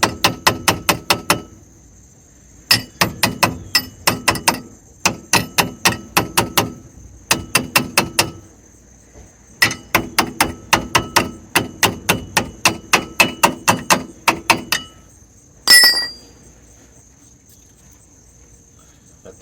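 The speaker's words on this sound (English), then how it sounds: "Of course, I need the hammer." A hammer taps a wheel bearing dust cap on an Oldsmobile Cutlass front wheel, striking in quick bursts of sharp metallic blows with short pauses between groups, close and loud, followed by a single ringing clang.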